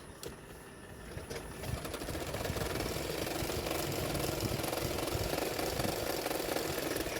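A sewing machine stitches a katori blouse piece, a steady rapid mechanical whirr that builds slightly after the first second and then runs continuously, close and moderately loud with no speech.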